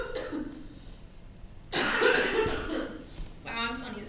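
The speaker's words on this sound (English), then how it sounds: "we'll delete that coughing out of the recording" Several harsh coughs and throat-clearing bursts from a podcast host, loud and close, arriving in two clusters separated by a brief pause after a stretch of quieter voice.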